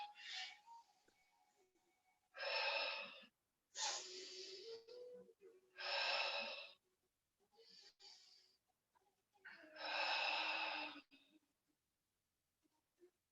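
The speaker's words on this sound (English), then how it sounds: "Let's try for 3 deep breaths." Deep breathing during an intermediate yoga class: a series of long, airy inhales and exhales, each lasting about a second, close and soft, with short quiet gaps between them.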